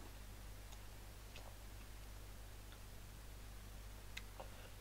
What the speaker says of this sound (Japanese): 時計はこの音、